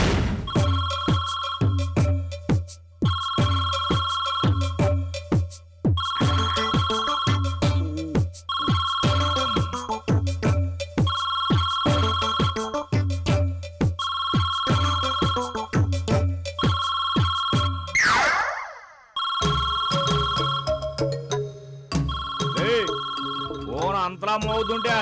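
A telephone rings loudly and repeatedly in a regular ringtone pattern for most of the stretch, broken by a brief whoosh near the end, in a Telugu comedy serial scene; no talk is heard over it.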